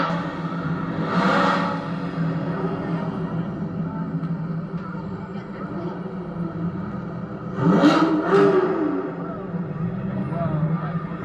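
Corvettes roll through Carlisle, Pennsylvania in the annual parade, engines rumbling steadily with two louder revving surges, one early and a sharper one later, while people talk nearby.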